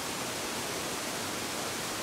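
A waterfall roars as a steady, dense, unbroken hiss of falling water heard from just in front of it along a walking route through nature, with no voices.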